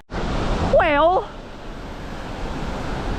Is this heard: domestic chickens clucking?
no